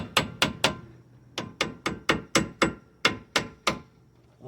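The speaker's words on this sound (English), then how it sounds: "Sometimes you gotta use your hammer just to give it a little tap." A hammer taps a car brake part into place with about fifteen sharp metallic strikes, loud and close, in quick groups of three to six with short pauses between them.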